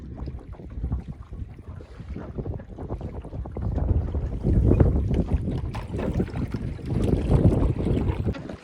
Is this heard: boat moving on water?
yes